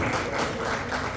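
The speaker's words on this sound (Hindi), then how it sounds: "जोरदार तालियां मैं आप लोगों से गुजारिश करूंगा।" Applause from an audience at a song event, a steady dense wash of clapping filling the clip without a break.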